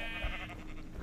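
A shaggy sheep bleating in Minecraft with the Galacticraft mod, one wavering nasal bleat lasting about a second, moderately close and alone.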